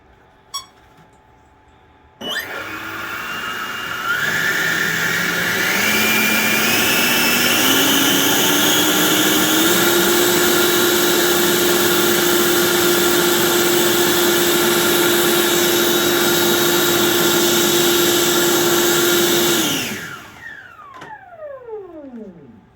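A large 105-inch R/C T-38 Talon jet model with electric ducted fans spools up on a servo tester into a loud, rising whine with climbing tones, holding a steady high-pitched roar at full power before winding down sharply.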